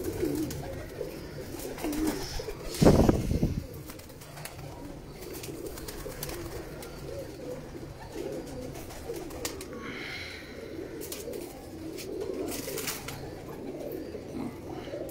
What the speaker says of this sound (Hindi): देखे जी छः नंबर कबूतर है